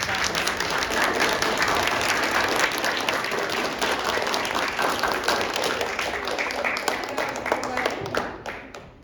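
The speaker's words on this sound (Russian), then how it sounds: "не надо скупиться, дети, аплодисменты, не надо жалеть своих ладошек" Children clap after a concert at a musical salon, dense sustained applause from a crowd filling about nine seconds before thinning out at the close, with voices mixed in.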